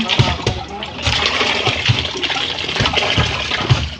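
Water pours and splashes steadily for several seconds, a close, continuous gushing with small spatters, while people talk over it.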